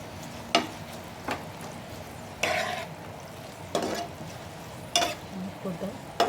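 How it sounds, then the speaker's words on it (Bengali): Sliced onion and chicken frying in a pan for an egg chicken roll, with a few brief scrapes of stirring over a low background sizzle. "এখন আমি এর মধ্যে কিছুটা পেঁয়াজ দিয়ে দিচ্ছি আমি এইভাবে পাতলা করে কুচিয়ে রেখেছি এর মধ্যে দিয়ে দিচ্ছি আর পেঁয়াজটার সঙ্গে ভালো করে মিশিয়ে নিচ্ছি"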